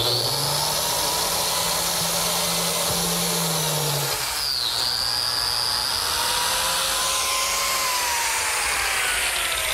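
A biscuit joiner's motor whines steadily as it plunges into a wooden board braced against a clamped scrap block, with a high spinning pitch that shifts and dips midway through the cut, loud and close with no talking.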